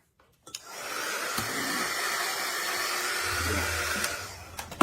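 A hair dryer switches on after a few handling clicks and blows steadily and loudly over a craft project, a continuous whooshing roar with occasional bumps and knocks.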